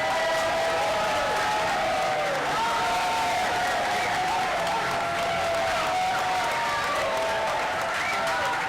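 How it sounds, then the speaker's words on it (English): Steady applause from a crowd of a few hundred at a live Tea Party Republican gubernatorial forum in a downtown Greenville venue, broad and continuous, with faint voices mixed into the wash throughout. "Please clap."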